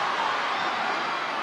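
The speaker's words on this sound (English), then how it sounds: "It's lifted the crowd." Women's Super League football crowd at Manchester City versus Manchester United, a steady, distant hum of stadium noise without a distinct surge, forming a flat background bed.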